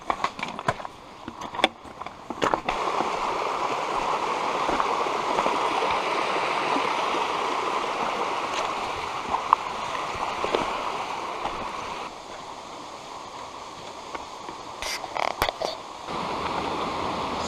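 Skylight Brook, a mountain stream in the Adirondack High Peaks near Allen Mountain, rushes with a steady broadband wash of flowing water close by, interrupted by a few sharp clicks and bumps at the start and near the end.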